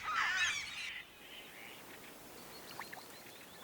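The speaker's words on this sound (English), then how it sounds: "Now, even the clamoring of the gulls is to no avail." Gulls clamoring along the Baltic Sea coast between Finland and Sweden: a loud burst of harsh, overlapping calls that breaks off sharply, followed by faint, scattered calls over a quiet background.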